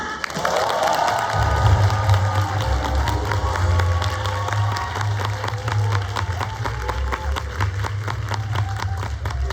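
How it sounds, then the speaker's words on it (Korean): A large audience in a grand ballroom welcomes a speaker with loud, sustained applause, a dense patter of many hands clapping together with cheering and crowd noise underneath. "그랜드 볼륨만이 떠나갈 정도로 큰 박수로 나예서 사장님을 맞이해 주시기 바랍니다."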